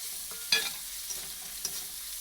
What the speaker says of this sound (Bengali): আদাটা আমি বেশি ভাজা করবো না হালকা করে ভাজা করে নিতে দেবো